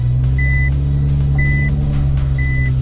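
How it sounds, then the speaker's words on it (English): A Nissan GT-R sounds its reversing warning, three evenly spaced high beeps over a loud, steady idling engine drone. "Of course, it's got the horrible beeping"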